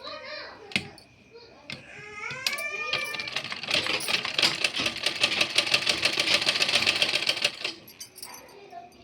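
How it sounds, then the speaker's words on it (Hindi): A sewing machine runs a straight seam to close off a trouser pocket. Someone speaks briefly first, then a steady, close, rapid stitching chatter runs for about four seconds before stopping. "अब इस तरह से मैं चारों कोने पकड़ के सही तरीके से सीधी सिलाई लगा दूँगी कि हमारा जेब का हिस्सा बंद हो जाए"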